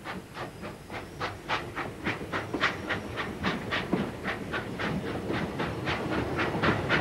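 The Red Devil steam locomotive pulls along the rails with rapid rhythmic exhaust chuffs and hiss, a steady loud beat that builds slightly as it runs.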